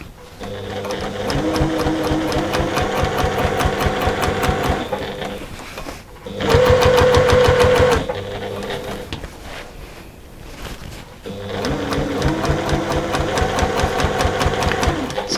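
A sewing machine stitches a zip onto a beach bag, loud and close with rapid rhythmic needle chatter in long runs, pausing briefly and then giving a short faster burst in between.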